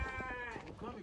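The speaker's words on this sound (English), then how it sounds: "I like the sheep. The sheep? They've been talking to me all day." A single close sheep bleat, a wavering nasal call lasting about a second, loud and clear.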